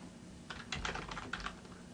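Rapid typing on a computer keyboard entering a search term in circuit design software, a quick burst of close, light key clicks in the middle of a quiet pause with no talking.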